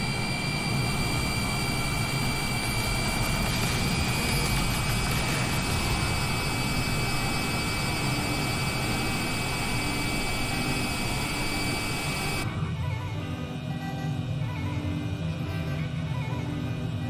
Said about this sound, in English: Looks like another plane just landed.